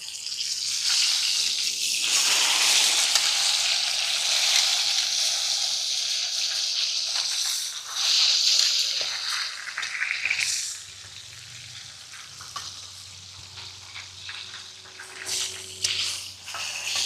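Ribeye steak sizzling in a pan that is not cast iron, a loud, hissing fry at first that quiets into a softer, crackling sizzle later.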